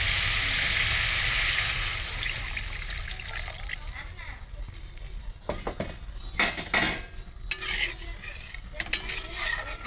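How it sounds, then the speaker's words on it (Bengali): Water poured into a pan of sizzling, spiced bottle gourd kofta curry: a loud hiss and sizzle at first that fades, followed by stirring and clinks of a utensil against the pot. "এখন দিয়ে দেবো আমি জল।"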